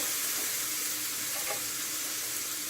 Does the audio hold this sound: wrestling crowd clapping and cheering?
no